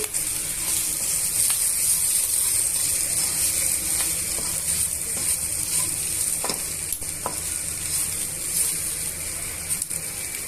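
Raw banana slices fry in a covered pan, giving a steady, even sizzle with faint scraping ticks, close and continuous throughout with no talking.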